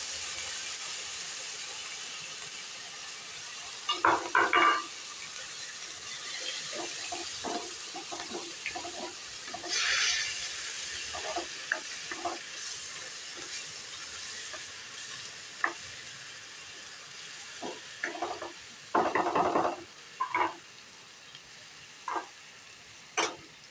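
Grated onion, ginger, tomato and garlic paste fries in a pan with a steady soft sizzle, broken by several sharp bursts of stirring and scraping.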